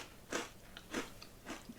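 Crunchy sesame bran sticks bitten close to the mouth, three quiet crisp crunches spaced roughly half a second apart, each with a small fainter crackle trailing after.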